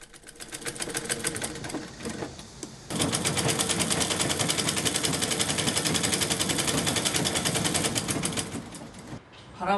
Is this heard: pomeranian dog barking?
no